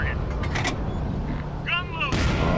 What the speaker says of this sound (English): Ready to fire on target.